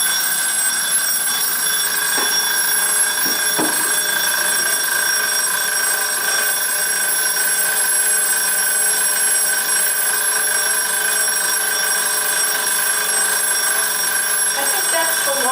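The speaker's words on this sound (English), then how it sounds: "I think that's the long ring timer." A wind-up kitchen timer gives a long continuous metallic ring, a loud steady bell that carries unbroken for about fifteen seconds with a couple of faint knocks near the start.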